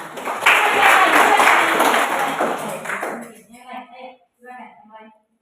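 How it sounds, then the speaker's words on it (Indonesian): Applause in a classroom comes as a dense burst of many hands clapping, close and lively, fading out over a few seconds into scattered claps, with voices heard toward the end. "Ya, bagus sekali. Tepuk tangan."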